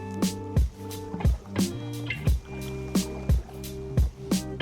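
A kayak paddled through water with a bit of current, rhythmic paddle strokes about every two-thirds of a second, each a wet splash and swoosh, close and fairly loud with a faint background hum.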